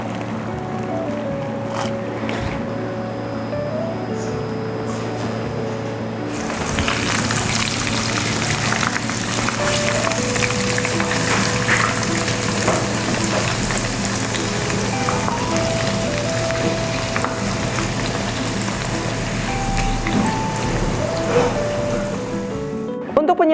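Wontons (pangsit) sizzle as they fry in hot oil for a Bandung-style yamien noodle dish, a steady, dense crackle that grows louder partway through and holds, with a faint hum underneath.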